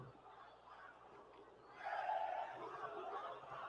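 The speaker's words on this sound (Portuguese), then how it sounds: "O torcedor do esporte vaiando aí, ó." Football supporters of Sport booing and protesting after a match, a crowd roar that swells loudly midway and holds as a dense, sustained jeer.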